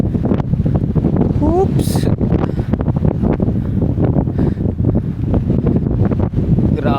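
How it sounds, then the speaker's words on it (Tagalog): Strong wind buffets the microphone on a hillside, a loud, constant roar with gusty rustling, while a person talks and breathes hard during the climb. "Grabe yung hangin dito."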